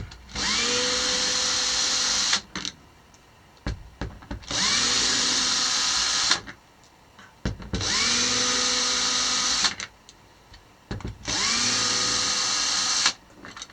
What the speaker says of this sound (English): I'm going to remove 6 screws from here.